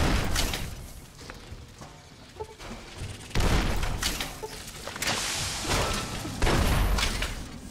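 Heavy grenade explosions in Fallout: New Vegas, several loud booming blasts with rumbling debris and gunfire in a chaotic game battle, landing in quick succession.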